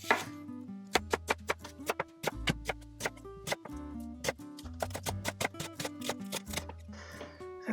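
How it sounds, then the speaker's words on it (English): Knife chopping onion on a cutting board, quick irregular sharp taps in bursts, close and crisp with brief pauses between runs. "Let me chop the rest of this onion real quick."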